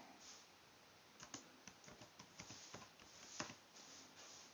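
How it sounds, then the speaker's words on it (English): Quiet typing on a computer keyboard, a loose run of soft irregular key clicks over a few seconds, with no talking. "Now inside the parentheses, let's type the name Tony Mulati."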